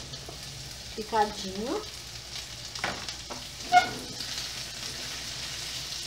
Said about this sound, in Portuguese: fritei agora a linguiça. Eu vou acrescentar o maxixe